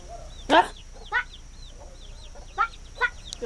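Chickens clucking in short separate bursts, about five calls spread over a few seconds, fairly close, with faint background noise and no talk.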